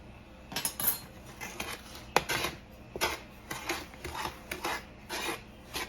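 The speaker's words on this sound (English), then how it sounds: "Mix that together well." Brownie sheet cake batter being mixed in a bowl, with a utensil scraping and rasping against the sides in a quick, uneven rhythm of close strokes.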